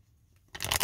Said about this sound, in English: I'm going to keep shuffling though.